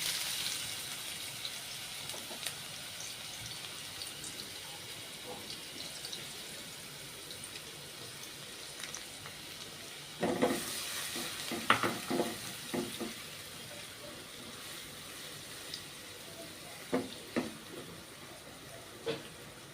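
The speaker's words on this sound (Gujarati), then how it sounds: "તો આપણું તેલ ગરમ થઈ ગયું છે સૌપ્રથમ ડુંગળી એડ કરશું" Steady sizzling of onions frying in hot oil, with a louder burst of crackling and stirring clatter partway through, close by.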